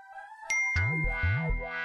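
A phone message notification ding sounds once as a bright, clear chime, followed by a short chiming tone pattern that repeats close and loud, with no talking.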